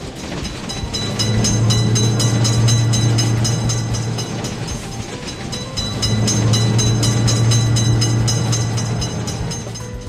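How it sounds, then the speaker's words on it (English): A train rolls past close by at a road level crossing, with rhythmic clickety-clack of wheels over rail joints and a deep rumbling hum swelling and easing in waves. "Attention, train is coming."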